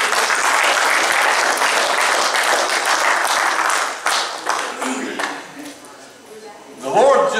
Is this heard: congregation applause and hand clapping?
yes